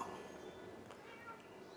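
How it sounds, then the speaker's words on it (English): A pet cat aboard a school bus being converted into a camper meows a few times, faint and intermittent behind background noise. "You might be able to hear that cat now."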